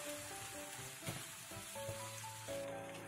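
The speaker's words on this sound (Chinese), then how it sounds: "再次翻炒一下，" Homemade rice cakes are stir-fried in a wok after a splash of boiling water goes in. A soft, continuous sizzle runs with a couple of light stirring scrapes, set against faint steady background tones.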